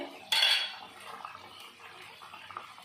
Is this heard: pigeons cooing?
no